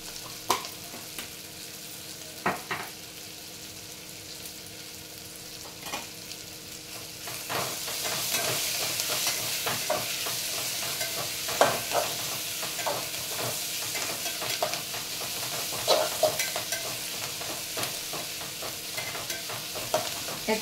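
Ginger garlic paste fries in a pan for a masala rice dish, starting with soft sizzling and scattered stirring scrapes, then a louder, steady sizzle with repeated clinks and scrapes of the spoon.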